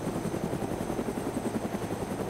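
Several DayZ video game helicopters left running on the ground, rotor blades thudding in an even repeating pulse over a droning engine and faint high whine, near and unbroken throughout.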